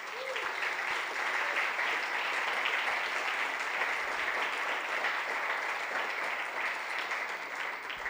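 Sustained applause from a church congregation during a sermon, a steady dense clapping that fills the room for the whole stretch with no talking over it.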